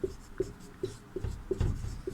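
Steady handwriting strokes, likely chalk or pen on a board during a Class VI Sanskrit lesson, tapping out in short regular bursts about every half second, close and clear with no talk over them.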